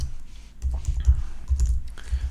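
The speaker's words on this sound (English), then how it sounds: "I'm sorry for the typing here." Typing on a computer keyboard during an Android coding session, heard as irregular bursts of close, soft key clicks in short clusters with brief pauses between.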